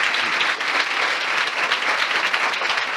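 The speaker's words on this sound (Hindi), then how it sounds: "आइए उसके वचन के लिए जोरदार ताली बजाएंगे।" A church congregation at a worship service bursts into loud, dense applause, steady and sustained throughout, close and filling the room with no speech over it.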